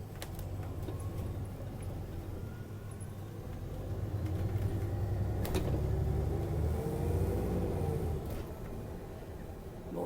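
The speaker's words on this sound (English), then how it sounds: "Let's go on a bus ride" Interior of a Paris city bus, line 86, riding toward the Left Bank in May 2021: a steady low engine and road rumble that swells in the middle, with sharp clunks and rattles of doors and fittings.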